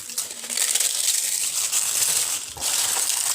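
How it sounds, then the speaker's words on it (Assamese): Papad snapped and crumbled by hand into a spicy Assamese mixture with fried peanuts and chopped herbs, a continuous dry crinkling and crunching that runs steadily close to the microphone, with a brief sharper crack near the end. "এয়া পাপৰখিনি মই এনেকৈ ভাঙি দিছো"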